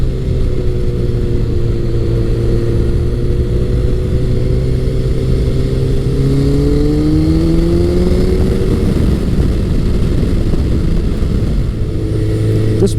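Honda CBR1100XX Blackbird (Super Blackbird) motorcycle, lowered, cruising in top gear on the road, its engine droning steadily and loudly throughout with slowly rising and shifting pitch, wind noise mixed in, no talking.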